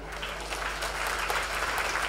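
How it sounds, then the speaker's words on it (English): An audience applauds a talented young rider at a horse-riding master class, a steady wash of clapping that is fairly faint and even throughout. "I should think you should applaud to him"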